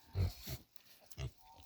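A young pig on a farm gives three short, close grunts spaced about a second apart, with faint outdoor background between them.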